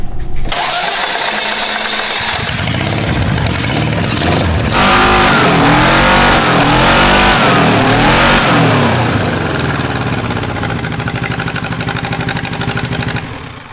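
A supercharged four-cylinder engine mounted on a drag-racing wheelbarrow cranks briefly, then catches and roars loudly, revving up and down in surging waves before settling into a steady high drone, heard up close with no talking.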